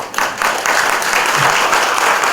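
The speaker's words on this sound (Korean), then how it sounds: "다시 한번 큰 박수 감사합니다." Warm applause from a gathered audience at a Buddhist dharma service for school staff, steady clapping that starts abruptly and continues fairly close and loud to the end.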